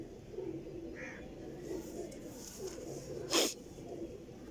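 A few soft cooing calls from a pigeon, likely a champion flying breed, sound close by over faint background noise, followed by a short sharp burst near the end.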